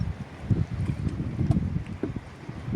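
Gusty wind rumbles and buffets against the microphone in uneven low surges, moderately loud, with no speech.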